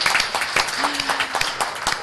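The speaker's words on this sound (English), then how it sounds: "let's give a round of applause for officers" Applause for police officers at a city council meeting in Baldwin Park, a modest crowd clapping fairly close, with a brief hum or voice passing beneath.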